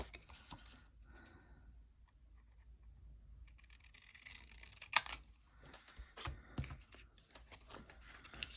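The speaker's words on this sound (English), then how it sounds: "And we'll just trim it with the scissors." Scissors trim the paper of a small handmade flip flap folio, giving a quiet scattering of snips and paper rustles that grow busier toward the end, with no speech.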